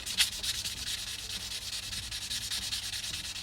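Andamooka matrix opal is wet sanded on 800 grit paper, giving a steady, close, rhythmic scratchy rubbing in quick back-and-forth strokes with no voices.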